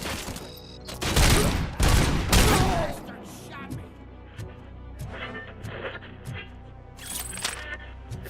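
Heavy .50 caliber sniper rifle fire in the video game RoboCop: Rogue City, with a few loud booming shots in quick succession up front, then quieter clatter and handling sounds as they fade.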